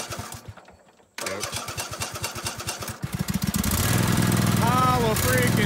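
An International Harvester tractor engine with a new battery cranks in a steady rhythmic churn, pauses briefly, then cranks again and catches, settling into a loud, close running rumble while people talk over it.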